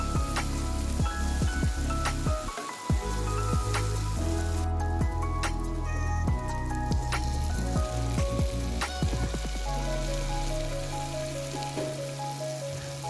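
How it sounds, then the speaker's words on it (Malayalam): Chopped tomatoes tipped into a hot sizzling pan for egg curry, loud steady frying hiss with scattered clicks and clatters, settling toward the end, no voices. "ഇനി നമുക്ക് ചെറുതായി കട്ട് ചെയ്ത തക്കാളി ഇതിലേക്ക് ചേർത്ത് കൊടുക്കാം"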